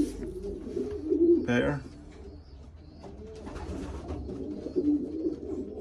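Racing pigeons in a loft, including a calm blue cock bird, give soft throaty coos and a brief flutter near the microphone while someone talks over them.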